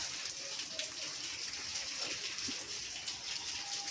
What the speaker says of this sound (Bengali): জলের ড্রামে জলটা ভরে চলেছে পিছনেই কল আছে